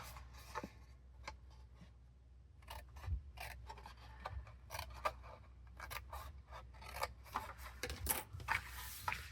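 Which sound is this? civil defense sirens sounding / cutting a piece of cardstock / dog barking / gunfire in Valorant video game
cutting a piece of cardstock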